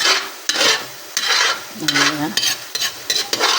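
Coconut cream with calamansi simmering in a pan as it cooks down into latik, a steady close sizzle broken by repeated scraping strokes of a spoon stirring through the thickening mixture.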